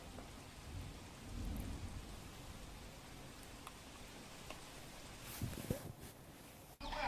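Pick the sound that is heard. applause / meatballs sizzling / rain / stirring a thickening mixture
rain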